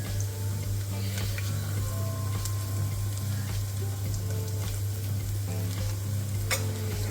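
Rice ravva roasting in a pan for upma, a steady close frying sizzle with the scrape and clatter of stirring running throughout, with no talk.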